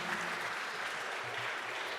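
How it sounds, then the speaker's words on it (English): Steady applause from an audience at a startup pitch event, honouring a team that just pitched, sustained and even throughout with no talk over it. "Round of applause for our team"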